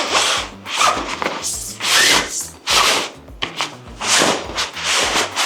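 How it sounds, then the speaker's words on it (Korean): A metal pole is pushed into the closed fabric sleeve of a camping cot, producing repeated close rubbing and scraping swishes in uneven bursts. "이 봉의 끝 쪽을 그 이 스킨 막혀 있는 쪽으로 밀어넣는다고 생각하면"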